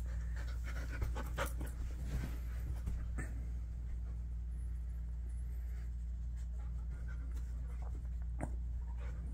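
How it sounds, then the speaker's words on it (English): A dog panting steadily and rhythmically up close in a room with a constant low background hum; no barking is evident and no one speaks. "Now I'm gonna go bark at myself in the mirror because I think another dog."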